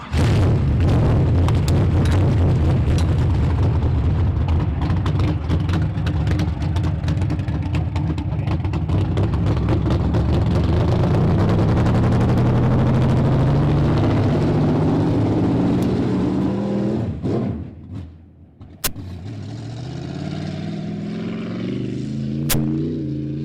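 A race car engine at a county fair roars loud and continuous from the start, with rising and falling pitch sweeps as it revs and accelerates. It cuts out near the end, followed by a couple of sharp pops and quieter idle.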